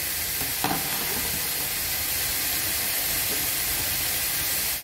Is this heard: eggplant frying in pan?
yes